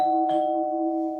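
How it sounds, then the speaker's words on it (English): A two-tone ding-dong doorbell chime sounds once, clear and close, and its tones hang steadily through a quiet night-time stillness. "Beck's doorbell rang twice."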